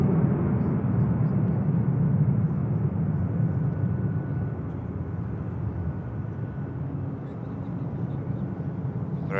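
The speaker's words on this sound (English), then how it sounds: "There goes the Vueling." A Vueling airliner departing Manchester Airport for Barcelona gives off a steady, broad jet roar that holds for several seconds and eases slightly toward the end, heard from a distance.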